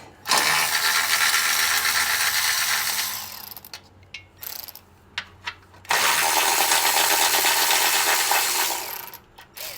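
Ratchet wrench loosening heat shield bolts on a Ferrari F430 during a clutch job, with two long bursts of rapid, loud ratcheting clicks separated by a pause of scattered small metallic clicks and taps.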